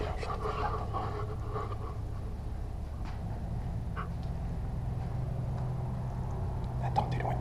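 A dog pants steadily and close by inside an abandoned fort, a continuous breathy rhythm with faint low voices in the background.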